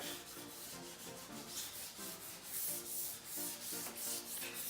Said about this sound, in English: you just want to nice and lightly, so you're not trying to sand back through it